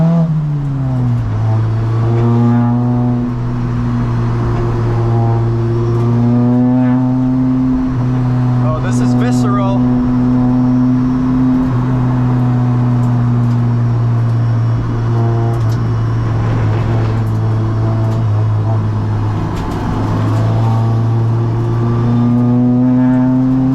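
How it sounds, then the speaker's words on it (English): A Honda Civic Si FE1 race car on Bridgestone Potenza RE-71RS tires laps a track, its engine droning with clear rising and falling revs through gear changes. The engine stays loud and close, as if from the cabin. "enjoy the sweet sound of the Civic Si race car."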